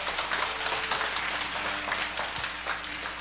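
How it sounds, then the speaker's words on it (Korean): A Korean church congregation at a Sunday afternoon service applauds warmly to welcome a special singer, steady, moderately loud clapping that continues evenly over a soft sustained tone underneath. "뜨거운 박수로 맞이해 주십시오."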